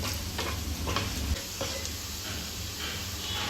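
Vegetables for spring rolls stir-frying in a hot pan, a steady close sizzle with stirring scrapes and clatters, heavier in the first second and a half, no voices.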